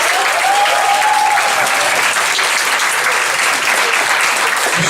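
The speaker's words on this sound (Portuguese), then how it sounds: "Michel Schreiber, pode aplaudir." An audience claps at a school concert, producing dense, loud, sustained applause that runs steadily throughout, with a faint whistle-like tone rising briefly over the clapping.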